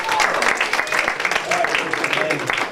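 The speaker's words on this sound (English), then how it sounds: "let's give a special applause to the Rooster Man" A crowd at a company Christmas party claps for a costumed rooster performer, a dense burst of applause lasting a few seconds with voices mixed in.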